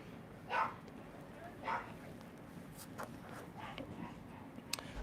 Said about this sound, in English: you guys can hear my dog barking in the background